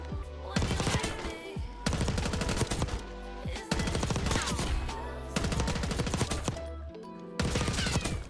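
A GPR-91 rifle with a rapid-fire attachment in Black Ops 6 lets off several fast, loud bursts of automatic fire, separated by short pauses.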